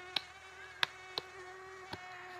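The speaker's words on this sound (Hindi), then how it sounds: "यार मैंने क्या बिगाड़ा है इस मच्छर का, वो खुदाया बहुत ही ज्यादा काटी जा रहा है मुझे तो।" A mosquito whines in a thin, steady high-pitched drone close by, faint and alone, broken by four short sharp taps or slaps spaced unevenly.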